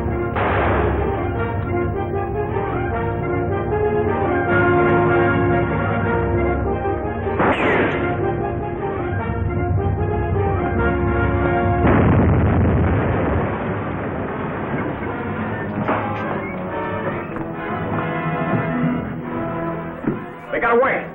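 A thunderous crash and explosion of a liquid air freezer in a 1945 film serial, bursting through a loud bed of dramatic orchestral music with rumbling debris after the blast.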